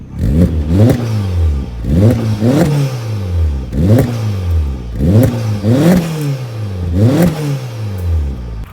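An Opel Astra GSi engine revs sharply several times in quick succession through a 2.5-inch exhaust system, the note rising and falling loudly, with a rough idle burble between blips.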